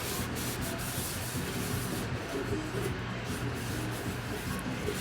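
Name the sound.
wiping outside of wax pot with Goo Gone cleaner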